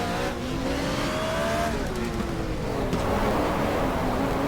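A BMW E30 M3 race car engine in the GTR2 racing game revs loud and close, pitch climbing and falling through gear changes with steady sustained roar throughout.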